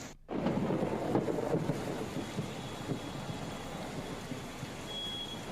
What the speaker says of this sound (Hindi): और क्या बढ़िया बारिश हो रही है।